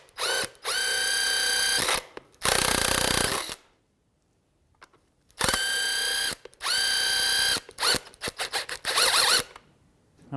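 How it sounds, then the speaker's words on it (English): Impact wrench hammering at a 17 mm nut on the rear shock absorber of a 2015-2019 Hyundai Sonata, loud close bursts of rapid ratcheting with pauses, the shock shaft spinning rather than loosening. "We're going to try and see if we can get it to come off with an impact."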